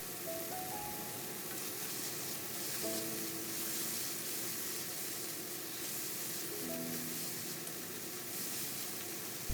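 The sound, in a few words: stir-frying pork shreds with soy sauce in a wok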